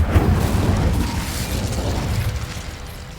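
A fiery burst from an Incendio fire spell cast in Hogwarts Legacy, a loud, low rumbling blast that roars steadily for about three seconds with crackling texture on top.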